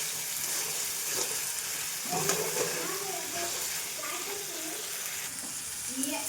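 Boiled goat meat is stir-fried in masala, a continuous close frying hiss with scraping stir strokes, while a voice talks intermittently over it.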